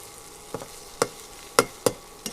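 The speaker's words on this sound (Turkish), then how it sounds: "Bu arada dışarıda biz yapıyoruz kızartmamızı" Food frying outdoors in a pan of hot oil for a home-cooked dinner. Several separate sharp spits and pops come at irregular intervals over a faint, steady sizzle, with no talking.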